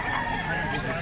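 A young gamecock stag of sweater bloodline crowing once, short and close, with voices murmuring in the background.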